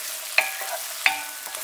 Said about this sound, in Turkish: Önce sebzeleri şöyle bir kavuruyorum.